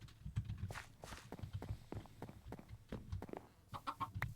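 Chickens cluck in short, irregular bursts alongside soft footstep-like taps in the Minecraft Sky Factory game, all quiet and fairly close, with no talking.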